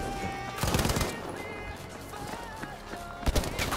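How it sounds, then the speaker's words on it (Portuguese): Gunfire in the video game Battlefield V rattles in short bursts from behind the player, mixed with galloping hooves and a horse whinny, loud and close amid busy game noise. "e aí que eu estou a levar tiros atrás?"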